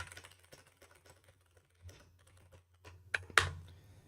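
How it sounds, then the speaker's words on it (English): Typing on a computer keyboard, scattered close key clicks in short bursts with pauses, ending in a couple of louder keystrokes, over a faint low hum. "let me just type this out"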